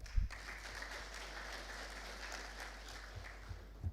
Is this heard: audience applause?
yes